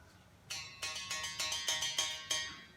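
A musical bow played acoustically on a porch, a single string struck in a steady rhythm of about eight bright, ringing plucks, each decaying quickly, heard fairly faint and alone.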